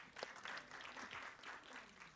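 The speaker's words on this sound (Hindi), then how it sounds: "उसके लिए तो डबल ताली बजाइए।" An audience at a film trailer launch event keeps up a short, dense round of clapping, steady and moderately close, with no voices standing out.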